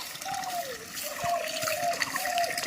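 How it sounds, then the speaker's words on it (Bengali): Water is poured onto parboiled paddy rice to soak it, a steady splashing trickle heard close and moderately loud throughout, with faint background voices. "যতটা জল লাগবে এখানে জল দেওয়া হচ্ছে"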